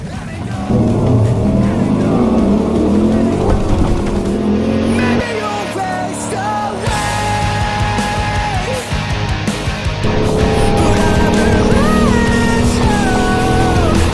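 A car launches hard off the line at a drag strip on a track day, its engine roaring loudly and climbing in pitch through successive gear changes, sustained and close throughout.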